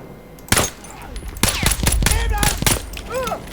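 Gunfire in the video game Battlefield 1, a close burst of sharp shots followed by repeated rapid fire, heard alongside other battle effects and talking.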